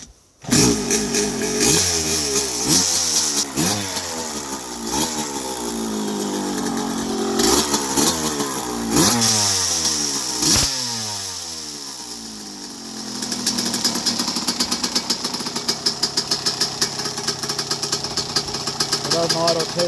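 A 1983 Yamaha YZ125 two-stroke motorcycle is kicked over several times in sharp bursts, then catches and settles into a steady, buzzing idle up close.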